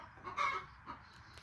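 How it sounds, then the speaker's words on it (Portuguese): A brooding hen clucking in the morning, one short raspy cluck followed by a softer second one, faint and somewhat distant, with no talking. "Olha a dona Galinha chocando, gente."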